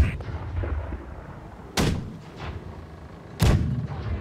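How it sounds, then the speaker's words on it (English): Ship cannons fire twice in a Blackwake naval battle aboard a schooner, two loud booming blasts about one and a half seconds apart, each with a rumbling tail over a low background din. "Those front two guns can still fire."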